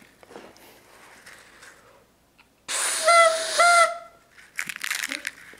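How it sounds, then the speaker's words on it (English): A toy whistle on a toy train funnel gives a loud, hissing steam-like blast with two short tooted pitches, followed by a second rougher hiss burst, after a stretch of quiet rustling. "We got some like whistles in here, so Thomas, I'll put that on your funnel here"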